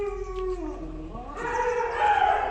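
Several dogs howl at a cow farm in long, wavering tones that rise and overlap, growing louder toward the end, with no talking.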